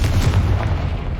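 A Confringo fire spell blasts in the game Hogwarts Legacy, a loud booming explosion with a heavy low-end rumble and crackling burst, close and filling the whole moment before fading slightly.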